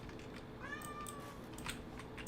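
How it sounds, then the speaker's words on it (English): Pet cat Simba gives one drawn-out, faint meow, rising and falling, heard alone over a quiet background hum with a few soft clicks. "That's my cat, you guys hear."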